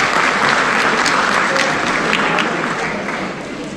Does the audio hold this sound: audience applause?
yes